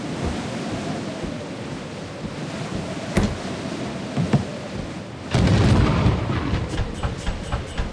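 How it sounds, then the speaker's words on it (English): Lightning strikes during a storm on a moon in the video game Lethal Company, with sharp cracks at the midpoint and again shortly after, the second followed by a loud rolling rumble over constant rain-like hiss. "Freaking lightning's trying to kill us."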